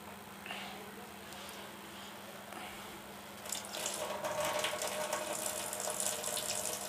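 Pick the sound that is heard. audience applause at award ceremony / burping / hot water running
hot water running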